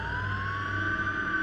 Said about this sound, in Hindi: अचानक मुझे पुलिस की गाड़ी के सायरन की आवाज सुनाई देने लगी।